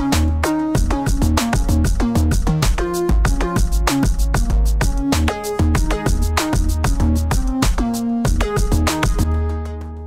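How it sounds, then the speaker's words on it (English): A loud, dense electronic beat made by the Reason Studios Arpeggio Lab arpeggiator together with a drum track, with rapid repeating synth notes over steady punchy drum hits, running for about ten seconds with no voices. "Everything else that you're going to hear is being generated by the arpeggiator."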